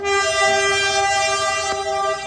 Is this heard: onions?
no